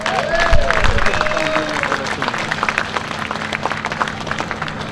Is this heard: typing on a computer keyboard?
no